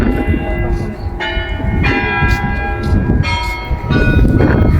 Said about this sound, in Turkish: Şu anda çan çalıyor.